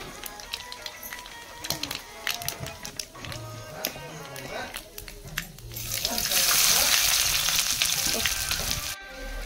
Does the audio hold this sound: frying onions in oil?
yes